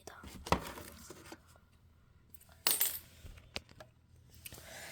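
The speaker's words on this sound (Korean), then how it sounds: "이렇게 동전이 나갑니다." Several metal coins clatter out of a coin changer after a 500-won coin is inserted, bright sharp bursts with a larger spill in the middle, quiet and close, with faint rustling around them.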